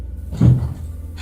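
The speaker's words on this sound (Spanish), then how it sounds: "el sonido de la puerta de su habitación la despertó" A bedroom door opens once with a short, muffled creak and thud in a quiet room, a close dull sound effect lasting under half a second.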